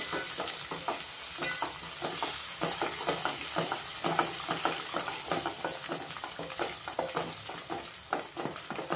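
Ginger paste and half a teaspoon of turmeric are stirred in a hot pan for a kandi batani dish, giving a steady, close sizzle broken by regular scraping strokes of the spoon, with no talking.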